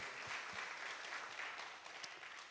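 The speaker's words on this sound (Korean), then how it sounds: "하나님께 영광의 박수를 올려드리겠습니다" A church congregation claps together during a Sunday worship service, producing a steady, fairly soft wash of applause that continues throughout.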